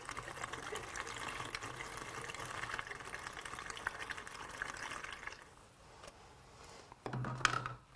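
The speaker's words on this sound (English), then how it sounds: "then you can fill up the rest with RODI water" Water pours steadily into a mixing jug that already holds calcium chloride for dosing a saltwater aquarium, filling it with RODI water for several seconds before tapering off, followed by a brief clunk.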